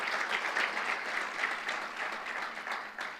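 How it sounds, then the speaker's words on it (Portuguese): A church congregation applauds steadily at moderate volume, a dense, even wash of clapping that runs throughout without pause and eases slightly toward the end. "dê um aplauso bem forte ao Senhor"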